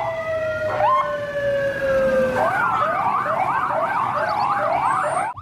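A toy siren wails with rising and falling tones, first a steady electronic whine, then a fast repeating yelp that continues loudly to the end.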